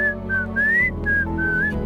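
A person whistles a short, casual tune in a few sliding notes. The whistling sits clearly over a busy background of music or ambient sound, with no talk.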